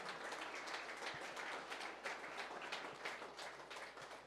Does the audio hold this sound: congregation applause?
yes